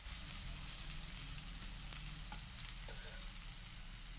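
Rava adai fries in oil on a dosa griddle, a steady close sizzle and crackle with a high hiss throughout and a couple of faint spatula taps, no one talking.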